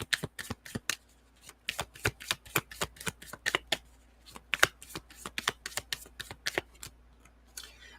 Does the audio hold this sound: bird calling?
no